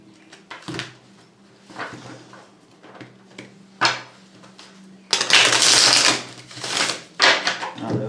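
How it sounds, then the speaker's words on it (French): Tarot cards being shuffled by hand, a run of soft papery riffles and taps building to a louder, dense flurry of card shuffling near the end, close and without speech. "Alors, je bats les cartes."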